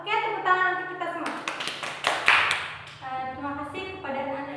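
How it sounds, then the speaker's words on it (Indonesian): Short burst of clapping from a classroom of children in Indonesia, breaking out between a teacher's spoken lines and fading as she resumes talking. "tepuk tangan untuk kita semua."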